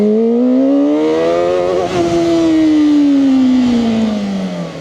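A brand-new VOGE RR500S inline-four motorcycle revs hard toward 10,000 RPM, its rising whine wavering briefly at the top before easing back down, loud and close with no talking.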